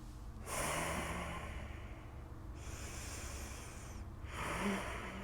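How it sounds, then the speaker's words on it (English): Deep, audible breaths during a yoga core exercise: three long, airy rushes of inhaling and exhaling, close and fairly soft, with short quiet gaps between them. "Breathing."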